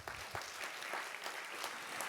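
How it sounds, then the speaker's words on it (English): A theatre audience claps together at a briefing for the play White Pearl, a dense, fairly soft wash of applause that holds steady throughout without talk. "Round of applause."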